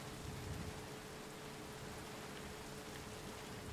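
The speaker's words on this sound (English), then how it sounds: "I love these rain physics. Look at the rain." Steady, dense rainfall in the Metal Gear Solid 5: Ground Zeroes video game, a continuous hiss of drops pattering on surfaces with no pauses and no voices.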